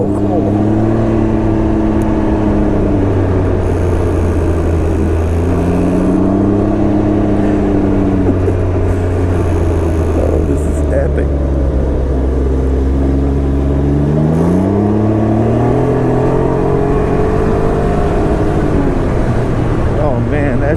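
A Can-Am Ryker 900 three-wheeler engine hums and rises in pitch as it accelerates on light throttle, dropping back between gear changes, with wind noise and a rider talking over it.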